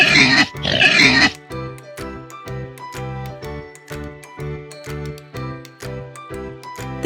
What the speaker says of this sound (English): This is pig.